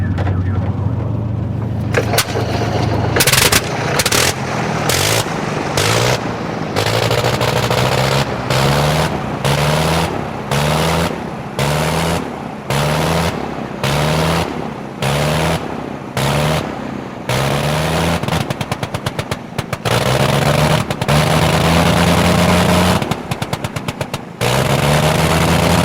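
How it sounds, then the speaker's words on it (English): A Sopwith Camel biplane with a 160 hp Gnome rotary engine drones loudly and close, cutting in and out in a rapid, regular rhythm of bursts and brief drops throughout. "I knew you were coming when you were flying a Sopwith Camel, especially with the 160 Gnome."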